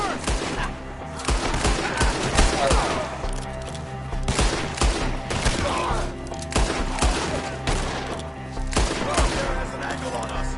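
Gunfire in Red Dead Redemption 2 during a fight with enemies up in the trees, with repeated loud shots and volleys cracking at irregular intervals over a tense battle ambience, voices shouting between them.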